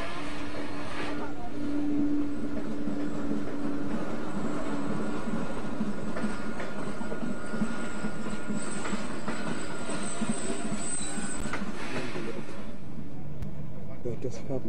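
A train rumbles steadily along the rails, with a sustained hum and occasional high squeal, while people talk in the background throughout.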